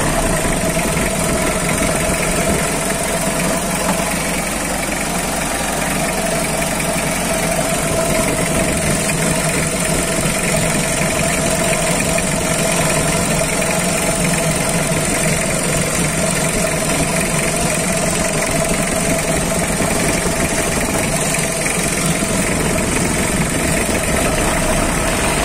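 A 1990 Mitsubishi L300 pickup's diesel engine idles steadily and close by, a continuous clattering rumble with a rough knocking texture and constant level throughout, no talking.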